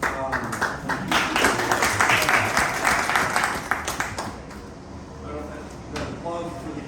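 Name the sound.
audience applause for a speaker's introduction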